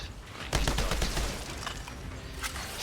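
Enemy gunfire in the Outriders video game, a rapid burst of overlapping shots and rattling fire up close, followed by scattered further shots against a busy background.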